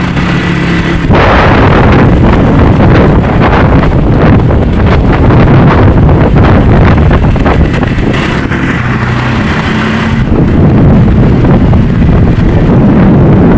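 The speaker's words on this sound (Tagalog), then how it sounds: "Lakas ng hangin." Strong gusts sweep across a pier under construction, buffeting the microphone with a loud, continuous roar that swells and eases slightly but never lets up.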